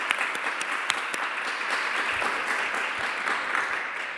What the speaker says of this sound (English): give them a big round of applause for coming out tonight